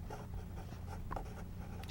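A pen or marker moving across a writing surface as an area formula for rectangles is noted in a math lesson, a soft, brief scratching stroke heard alone and close.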